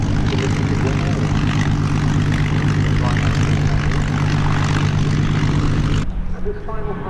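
B-17 bomber Sally B making a final low airshow pass with smoke on, a loud, throbbing multi-engine piston propeller roar that holds steady and then drops away abruptly near the end.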